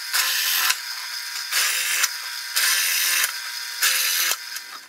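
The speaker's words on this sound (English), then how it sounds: "Now I'll drill the clearance hole for the screw." A power drill bores a screw clearance hole through steel in a workshop, in four loud, close bursts of high whirring bite separated by short pauses, with no one talking.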